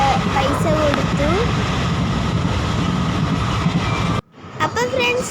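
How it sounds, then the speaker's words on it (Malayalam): A loud, continuous rumble and clatter from a train fills most of the clip. Voices can be heard over it before the noise drops away suddenly near the end. "നമ്മളിതേ ട്രെയിൻ ഇറങ്ങി ഇവിടെ എത്തിയിരിക്കുകയാണ്"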